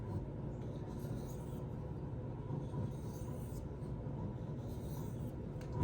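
A Protech Strider PT knife with a 154CM steel blade is drawn across a whetstone, producing a steady, close rasping scrape that runs continuously with even strokes and no pauses.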